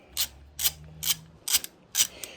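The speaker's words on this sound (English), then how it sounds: "we're going to finish taking off these bolts right here" A wrench ratchets on the bolts of the rear brake caliper bracket of a 1993 Suzuki DR350, five crisp bursts of quick metallic clicking at an even rhythm, close up, with no talk.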